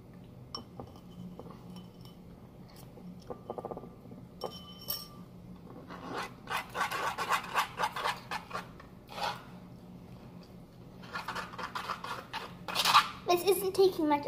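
Slime being mixed with borax activator in a bowl, with irregular sticky squelches, scrapes and clinks of a utensil against the bowl, fairly close, growing busier and louder toward the end.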